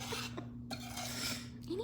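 A spoon scraping and rubbing through a brown sugar mixture in a pot, making close, raspy strokes with short pauses between them over a steady low hum.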